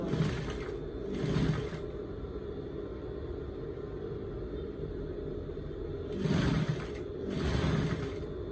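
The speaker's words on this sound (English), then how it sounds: "you continue sewing" Sewing machine stitching a pleated sleeve in two short bursts at the start and two near the end, a quiet buzzing whir separated by a long pause, close and alone.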